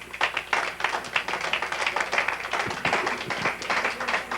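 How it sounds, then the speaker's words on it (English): A large studio crowd applauds at the close of a 1989 bowling television show, dense sustained clapping that fills the whole stretch, loud and even with no speech. "Give yourselves a big round of applause."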